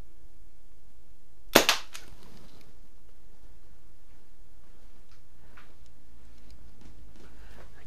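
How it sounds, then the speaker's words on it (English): A single sharp snap from a Daisy BB airgun rings out once near the start, followed by faint ticks against an otherwise quiet backdrop. "these guns are a lot of fun to shoot, but they're not well known, world renowned for their accuracy"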